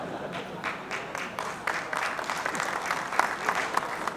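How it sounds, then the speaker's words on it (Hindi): Scattered audience applause from a handful of people at a talk on sustainability and heritage, sparse claps running steadily throughout at moderate level. "देखिए, 2-4 लोगों ने ताली बजाई"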